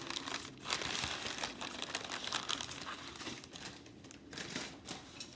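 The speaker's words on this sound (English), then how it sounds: "We're going to peel off our parchment." Parchment paper crinkling and tearing as it is peeled away from frozen patties, a dense continuous rustle up close with no talking.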